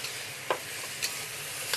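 Scallions stir-frying in a hot wok on a BlueStar cooktop: a steady, close sizzle with three sharp scrapes or tosses spaced through it, no talking.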